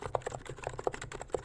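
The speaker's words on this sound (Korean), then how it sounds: "이 제품은 앱코에서 출시한 K995P V3 무접점 키보드입니다." Typing on an Abko K995P V3 electro-capacitive keyboard with 45 g key weight: quick, irregular, soft rounded keystrokes, close and clear with no talk.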